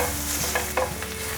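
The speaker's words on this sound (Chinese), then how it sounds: "现在放入香菇角， 把香菇角炒至焦香" Diced shiitake mushroom pieces are stir-fried in a wok for a vegan dish, with a close, steady sizzle and brief scraping stirs.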